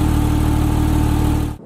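A Porsche Boxster's naturally aspirated flat-six engine idles with a steady, low, even burble heard up close, cutting off abruptly at the end.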